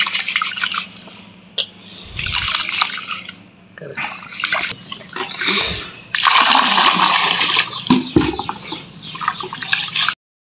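Rice is rinsed in water two or three times, with repeated bursts of sloshing, swishing and dripping separated by brief pauses and a few soft knocks.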